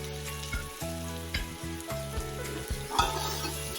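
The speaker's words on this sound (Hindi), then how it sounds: "अब मैं इसके अंदर लहसुन, अदरक और सब्ज़ मिर्चों का पेस्ट डाल रही हूँ" Steady sizzling of garlic, ginger and green chili paste frying in hot oil with chicken, with periodic stirring scrapes and bursts of louder spitting, no voices.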